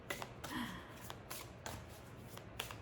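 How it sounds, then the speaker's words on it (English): Oracle card deck being shuffled and cards pulled, a quiet close run of papery riffles and flicks in irregular bursts, with faint soft sounds between. "So let's pull that Triad Oracle card now."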